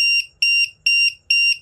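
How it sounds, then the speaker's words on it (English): The low-voltage buzzer alarm of a LiPo battery voltage tester gives four sharp, piercing beeps in quick succession. Each beep is split into two short pulses, loud and close. "and then it will alarm."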